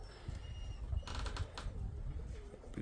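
A pigeon's wings flap in a short burst of quick, fluttering beats, with soft bird sounds and faint background noise around it.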